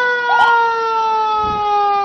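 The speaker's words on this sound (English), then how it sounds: "And here comes the Mercy Ambulance." The Mercy Ambulance passes in the 2018 MLK Jr. Parade in Savannah with its siren sounding a loud, steady, close wail of layered tones. A brief rumble sits underneath.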